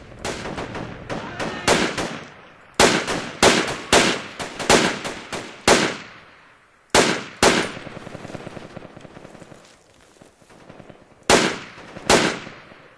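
Gunfire in the military shooter Project Reality, loud bursts of rapid automatic shots and single cracks in clusters with short pauses, close and sharp, with no talking over it.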